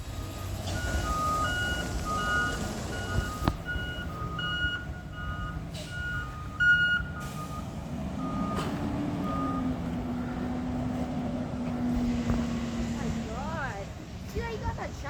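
A garbage truck backing up, its reversing alarm beeping in a steady repeated pattern over engine rumble, with people talking nearby.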